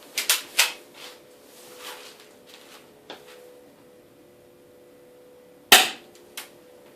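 Zombie Hunter Destroyer airsoft gun rated 360 feet per second firing at an indoor target, a few sharp snapping shots with quick target clacks, a cluster near the start and one loud shot later, in a quiet room.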